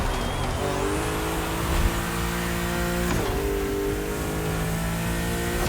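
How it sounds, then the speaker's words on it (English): A twin-turbo BMW M4 Liberty Walk in the racing game The Crew Motorfest, its engine revving loud and sustained, pitch climbing and dropping through gear changes with a faint tire squeal. "Let's hear those twin turbos."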